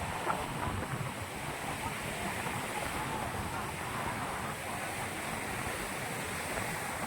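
Waves roll onto the beach at Digha in a steady, unbroken roar, mixed with wind buffeting the microphone.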